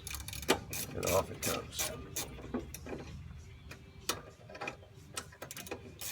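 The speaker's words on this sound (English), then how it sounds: "So, number 13 on a 3/8 ratchet." A 3/8-inch ratchet works a brake caliper bracket bolt loose on a 2004 Chevy Impala, giving rapid close-up clicking bursts that fade into quieter handling, with someone speaking briefly.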